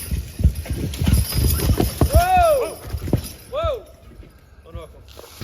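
Belgian heavyweight draft horses clop steadily over frozen ground while logging big timber on a steep hill, hooves thudding close and uneven with metallic chain clinks, under scattered talking.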